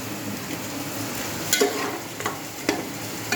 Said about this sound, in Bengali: যে দেখো মাংস কষানো হয়ে যাচ্ছে